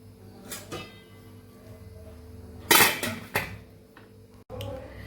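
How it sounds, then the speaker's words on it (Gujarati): A metal dish set into a hot steamer while cooking farali Indori sabudana khichdi: soft clinks, then a loud clatter of metal on metal and a few lighter knocks, close and without talk. "તેમાં આપણે ડીશને રાખીને સ્ટીમ થવા રાખી દઈશું"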